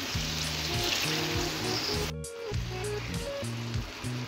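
Spice-rinse water poured into a pan of cooking katla fish sets off a loud, steady sizzle and hiss with a brief sharper burst midway, over a low tonal background.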